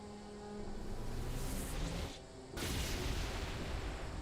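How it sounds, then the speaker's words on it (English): Projectile cannon fire from the Mat Cannon in a modded Halo 3 game, a loud sustained blasting roar with a short dip partway through, no talk. "I think we should double check with our Mat Cannon just to make sure the projectiles go through it."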